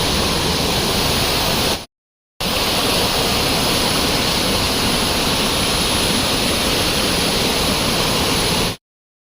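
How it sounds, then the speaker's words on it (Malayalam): Small waterfalls at Chilandhiyar near Vattavada, heard as a loud, close, unbroken rush of falling water, cut off by a brief gap of silence and then continuing steadily. "ചെറിയ ചെറിയ വെള്ളച്ചാട്ടമൊക്കെ ഉണ്ട്."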